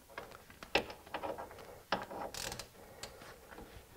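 Ratchet loosening a brake caliper bolt on a 2002–2007 Jeep Liberty: a few quick bursts of close, dry metallic clicking, with brief pauses between strokes and no talking.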